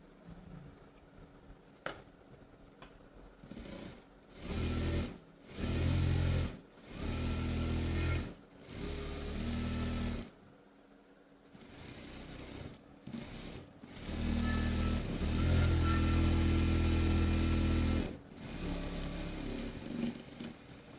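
A sewing machine stitches school uniform pants in short bursts of whirring, with about six runs of varying length separated by pauses and faint handling sounds.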